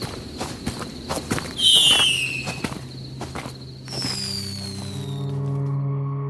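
Fireworks going off outdoors: a string of sharp crackling pops, then whistling rockets that shoot upward and burst, followed by a lingering sustained tone, with no talk over them.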